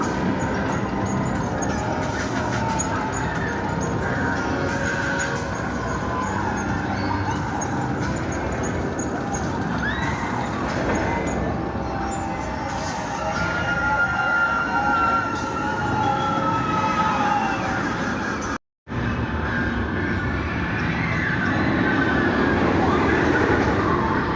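Oblivion, the vertical drop roller coaster at Alton Towers, heard from off-ride as a continuous loud rumbling roar of the train on the track, with distant crowd noise and screams and a brief cutout partway through.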